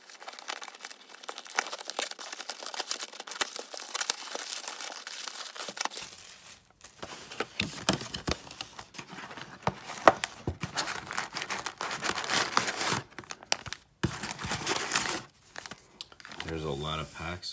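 A crinkly foil wrapper on a 1990s Rollie Fingers Yak Packs trading card pack is torn and crumpled open up close, with loud irregular crackling bursts and brief pauses, and a short stretch of speech near the end.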